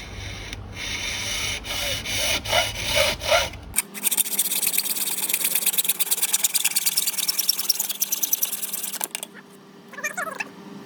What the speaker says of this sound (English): I'm going to cut this thing up outside so I avoid any of that nasty carbon fiber dust.